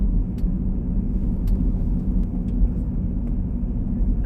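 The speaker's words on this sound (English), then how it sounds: "There's an airship right above us at 11 o'clock." Low, steady rumble of an aircraft (an airship) passing overhead above a Los Angeles street at night, a continuous broad drone lasting throughout with faint traffic-like noise and no speech.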